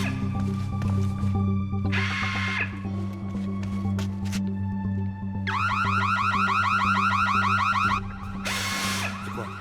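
A car alarm wails in repeated pulsing bursts over a steady low mechanical hum, with long loud stretches broken by short pauses.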